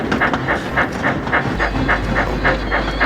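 Railway trucks and a brake van clatter over a crossing in a steady, rhythmic clickety-clack beneath a low rumble, close and continuous, with no talking.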